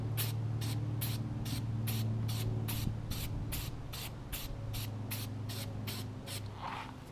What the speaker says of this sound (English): I'm not going to spray too much of it on there